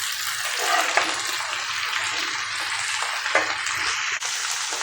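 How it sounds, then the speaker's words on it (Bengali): Okra fries in a pan with a dense, steady sizzle while being stirred, the sound close and continuous throughout, with no speech. "এখানে আমি ঢেঁড়সটা দিয়ে এখানে এখন একটা নাড়া দিব"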